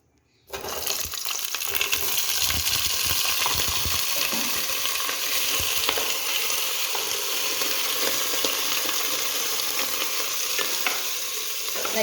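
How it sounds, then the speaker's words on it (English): Salt-water-soaked brinjal pieces dropped into hot oil in a pan sizzle and splatter loudly, a dense steady frying crackle that starts abruptly and continues throughout. "we are going to put the brinjal, but be careful, since we have soaked it with salt water, it will splatter"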